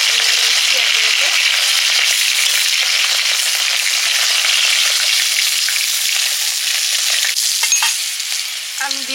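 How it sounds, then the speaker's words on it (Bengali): Potatoes fry in hot oil in a pan as part of cooking a snakehead fish curry, giving a loud, continuous close-up sizzle with crackles and stirring scrapes that eases slightly toward the end. "আলুগুলো ভেজে নিচ্ছি"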